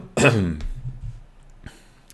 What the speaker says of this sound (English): Hiccup while you're coughing or clearing your throat is weird.